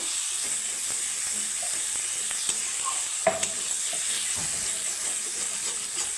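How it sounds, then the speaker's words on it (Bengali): Fried katla fish being sautéed in spices gives a soft, continuous sizzle and hiss with occasional light scrapes and clicks of stirring, close by and low in level, no speech. "মাছের সাথে আমি দু মিনিটের মতো কষিয়ে নেব"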